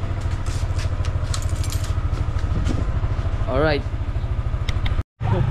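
A motorcycle engine idles close by with a steady low throb, while people talk over it before it cuts out briefly near the end.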